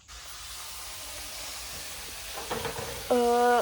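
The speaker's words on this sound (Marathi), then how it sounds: "चला मला भाजी टाकू द्या फोडणीला" Vegetables go into hot tempering on a wood stove, a steady hiss and sizzle that builds, with a short burst of speech and a brief tonal sound near the end.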